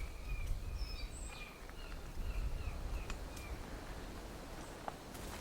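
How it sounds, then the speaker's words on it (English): Forest birds in Costa Rica call in short whistles and chirps, mostly at a distance, over steady ambient hiss with a few faint clicks and rustles. "I'm hearing a lot of bird calls."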